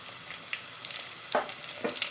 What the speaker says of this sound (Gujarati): ચલો હવે ડુંગળી એડ કરી દેવાની.